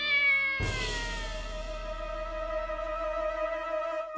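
A cat lets out a single drawn-out, plaintive meow close to the listener, clear and alone with no talking.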